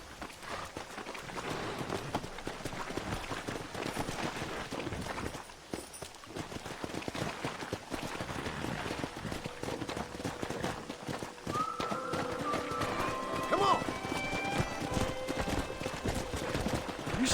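Horses galloping in the Western game Red Dead Redemption, a continuous rapid clip-clop of hooves with an occasional whinny, steady and moderately loud throughout.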